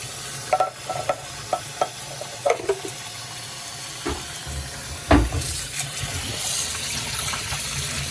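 Canned beans being rinsed under running water, with a steady hissing flow and several sharp knocks and clatters from the container and beans, ending in louder running-water noise.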